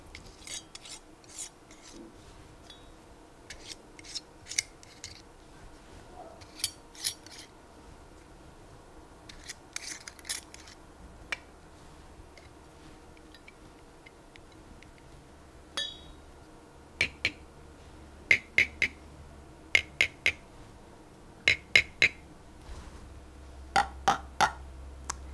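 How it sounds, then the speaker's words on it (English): A spoon taps metal canning-jar lids to check the seals on home-canned jars, a series of short bright clinks that cluster toward the end over a faint background rasp. "We'll check the seals by tapping with a spoon and looking to see if the lid is slightly depressed."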